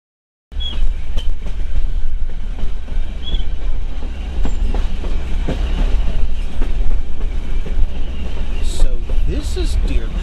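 A Heber Valley Railroad passenger train rolls along its tracks with a steady loud rumble and rhythmic clickety-clack of wheels, occasional squeals, and a voice talking over it.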